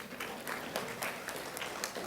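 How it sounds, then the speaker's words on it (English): Applause from a seated and standing audience at a presentation, brief scattered clapping, fairly quiet and moderately distant. "All right, we got some folks standing, so applaud yourselves."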